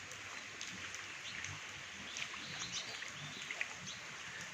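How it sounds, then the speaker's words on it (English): Steady, soft rain falls at the start of the rainy season, a continuous close hiss of drops with slight patters and no voices. "Rain falling on my body."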